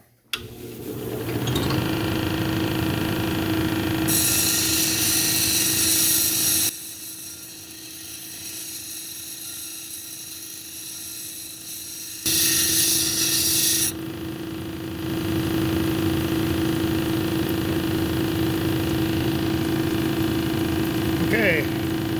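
A grinding wheel shapes a 45-degree edge on an amygdaloidal basalt cabochon, a steady motor drone with sustained harsh grinding bursts that drop out midway and then resume.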